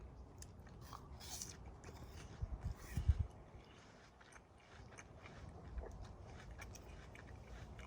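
Someone bites into a crunchy red-fleshed Lucy Glo apple, giving a sharp crisp crunch, then chews with soft close-up crunching for several seconds.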